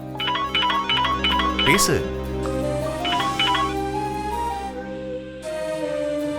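An incoming call sets off a phone ringtone, a bright repeating melodic pattern that plays in bursts over a steady background hum. A voice speaks briefly in the middle.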